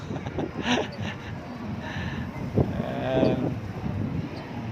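Strong wind buffets the microphone in gusty bursts while a kite flies outdoors, with rumbling rushes of air rising and falling.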